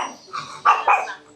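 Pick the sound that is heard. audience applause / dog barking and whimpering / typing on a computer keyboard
dog barking and whimpering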